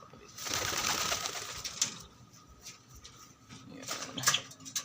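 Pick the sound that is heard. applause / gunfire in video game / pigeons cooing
pigeons cooing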